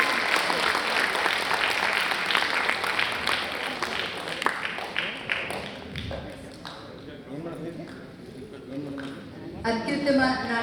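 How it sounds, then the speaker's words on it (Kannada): An audience claps loudly and densely after a drama performance at a tent theatre event. The applause fades over several seconds, and voices talk underneath. "ಜೋರಾದ ಚಪ್ಪಾಳೆ ಬರಲಿ ಎಲ್ಲರೂ"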